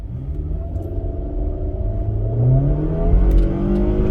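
A car engine, recently repaired after neglected maintenance, accelerates hard on a road test, its rising, rumbling roar climbing through the gears and growing louder toward the end.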